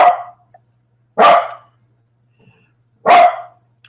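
A puppy dog barks three times, each bark loud and close, spaced about a second and a half apart with quiet gaps between them and no other sound.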